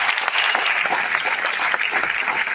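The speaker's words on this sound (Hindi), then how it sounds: "भाई एक बार पीसी सर के लिए जोरदार ताली यार" A room full of people applauding at a training session, steady continuous clapping at moderate loudness with no voices over it.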